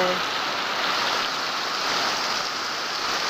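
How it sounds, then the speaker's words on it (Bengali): Heavy rain pours down steadily, a loud, dense, continuous hiss of water drumming on surfaces close by, with no break across the stretch. "দেখো বৃষ্টি কত বৃষ্টি দিতে আছে"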